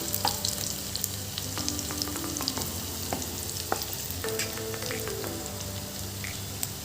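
Onions fry in a pan with a constant crackling sizzle, dotted with sharp clicks and scrapes as they are stirred and moved around.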